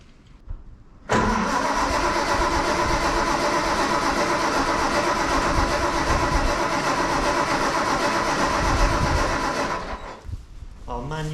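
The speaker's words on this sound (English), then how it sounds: "let's give it a kick and see if it'll fire up." Commer Q4 lorry engine cranking briefly, then firing up and running at a loud, steady rumble close by before cutting back, with a voice briefly heard near the end.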